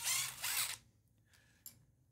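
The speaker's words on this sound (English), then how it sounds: "let's get these four screws out of here" Screws are being removed from a Hitachi/Metabo NV45AB2 roofing nailer: two loud whirring tool bursts close by, then near quiet with a few faint clicks and a brief sharp tap.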